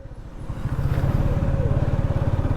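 A TVS Apache RTR 180 motorcycle engine runs close by, its steady throbbing exhaust pulse building in level during the first half-second and then holding a loud, even beat.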